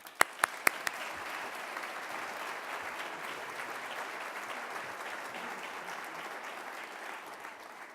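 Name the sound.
audience applause welcoming a speaker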